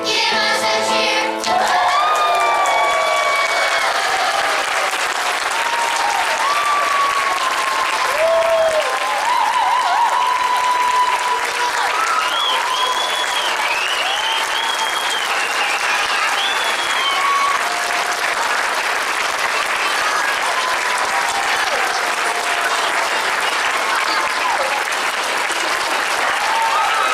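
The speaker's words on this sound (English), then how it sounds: "We gather here, give us a cheer. Give us a cheer." A theatre audience at a stage performance of The Snow Queen in Missoula applauds loudly and continuously, with scattered cheers and children's shouts rising above the dense clapping.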